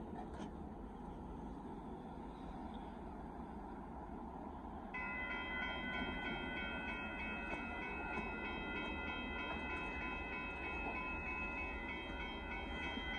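A southbound Union Pacific mixed freight train passes at a road crossing in Austin, Texas, with a steady distant rumble of rolling cars. A warning bell begins ringing partway through and continues to the end.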